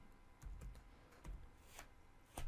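Keystrokes on a computer keyboard while searching for VSFTPD during a Kali Linux penetration test, heard as a few scattered, soft clicks in short irregular bursts over a quiet background, with no talk.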